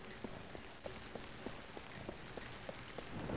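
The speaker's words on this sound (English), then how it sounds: "Don't go outside, it's raining." Faint, steady rain hisses across a surface in the video game James Bond 007: Nightfire, with soft evenly spaced ticks running through the quiet downpour.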